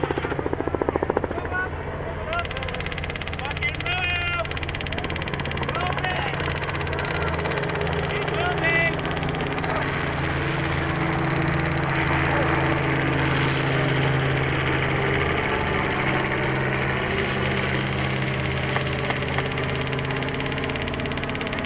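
A video game helicopter's rotor and engine drone steadily throughout, loud and continuous, with faint voices and game sounds mixed underneath.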